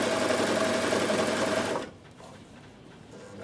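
A Bernette b62 coverstitch machine runs steadily, stitching wool thread through fabric with a dense, even mechanical whir for nearly two seconds, then stops, leaving quiet room tone.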